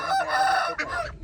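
A farm rooster crows loudly and close by, one long drawn-out call followed by a shorter second burst, with no voices over it.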